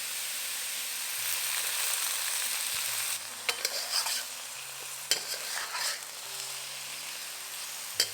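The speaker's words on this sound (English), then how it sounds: "Fry it till most of the pork has turned white." Pork and mushrooms are stir-fried in oil in a pan, giving a steady sizzle broken by occasional clacks and scrapes of stirring.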